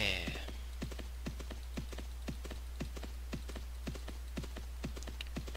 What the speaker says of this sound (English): So, riding back on my horse.